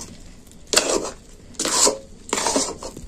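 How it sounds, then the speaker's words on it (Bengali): Spoon scraping and stirring a stiff rice flour dough cooked in hot milk in a pot, three separate bursts of clattering strokes against the metal, close and fairly loud with pauses between. "আর একটু নাড়তে থাকবো, আর একটু শক্ত হতে হবে, তারপর আমি নামিয়ে নেব।"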